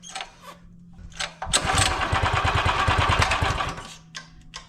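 A 212 Ghost small engine fitted with a 24mm carburetor fires and runs briefly with a loud buzzing putter for about two seconds before dying, with faint clicks before and after.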